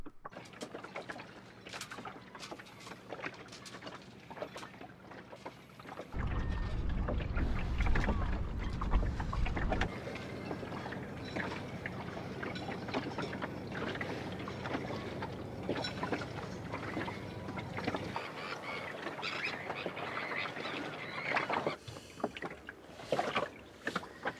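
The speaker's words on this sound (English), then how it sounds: "I cast Avel Dro off from it and set sail back round past the fishing harbour." A small sailboat heads out past a fishing harbour, with water washing against the hull and gusty wind buffeting the microphone, growing louder through the middle before easing off.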